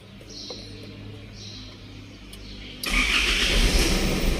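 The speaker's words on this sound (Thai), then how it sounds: "อ่าฟังเสียงเครื่องยนต์" A used 2014 Isuzu D-Max pickup with a five-speed manual gearbox starts up close by after a quiet stretch with faint bird chirps, then keeps running at a steady, rumbling idle.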